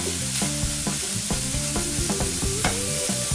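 Ground pork browning in a hot pan, a loud continuous sizzle broken by the repeated scrape and clatter of stirring, no voices.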